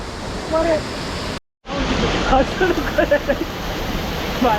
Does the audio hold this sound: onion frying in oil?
no